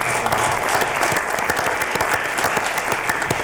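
A debate audience claps steadily to welcome the fourth judge, a dense, even round of applause from a sizable crowd in a hall, sustained throughout without any speech.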